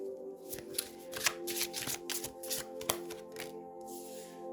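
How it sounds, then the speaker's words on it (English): A deck of tarot cards is riffled and shuffled by hand, a rapid series of crisp, close card flutters and taps repeating steadily over several seconds with a faint hum beneath. "that's too many cards that flew out there"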